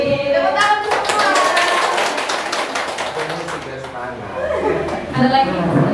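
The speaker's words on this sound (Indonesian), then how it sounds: "Tepuk tangan semua." Everyone claps together in a burst of scattered, overlapping hand claps, with talking and chuckling around it.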